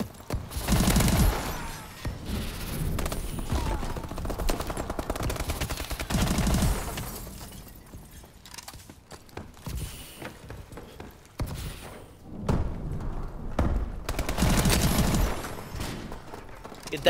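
In the Advanced Warfare video game, the S-12 shotgun fires in dense, loud bursts of repeated blasts that come in waves, separated by brief quieter lulls.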